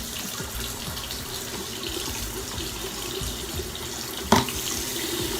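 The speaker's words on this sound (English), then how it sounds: "let me get some cold water here." Cold water runs steadily from a tap into a sink, a continuous even hiss of flow with one brief clunk near the end and no talking.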